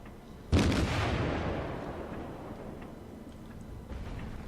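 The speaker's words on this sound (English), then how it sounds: "that enemy cruiser is only firing its forward gun at us" Cruiser guns firing in World of Warships during a tier 1 Japanese cruiser match: one sudden loud boom that rolls off into a long rumbling decay, with a fainter follow-up report near the end.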